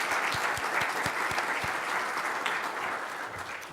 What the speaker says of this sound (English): we can give you a quick round of applause